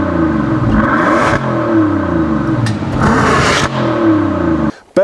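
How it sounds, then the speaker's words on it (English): A 2014 Bentley Flying Spur sedan with a twin-turbo W12 engine accelerates hard, its loud, steady roar rising and falling through gear changes before cutting off abruptly near the end, with no talk over it. "It's unbelievable how fast this car will accelerate from 0 to 60."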